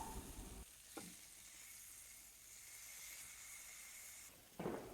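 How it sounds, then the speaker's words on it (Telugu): Chicken patties fry in butter in a pan, a steady close hissing sizzle with a couple of brief clatters from flipping or pan contact, no voices. "సో ఇలా 2 ప్యాటీస్ని 2 సైడ్స్ ఫ్రై అయ్యేటట్టు ఫ్లిప్ చేస్తూ ఫ్రై చేస్తాము."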